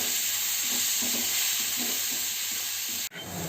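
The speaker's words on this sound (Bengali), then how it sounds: "হলুদ গুঁড়ো দিয়ে ভালো করে রান্না করব।" Turmeric and chili powder cooking in a hot pan, a steady sizzle with soft stirring scrapes throughout, close and fairly quiet, ending in a short bump.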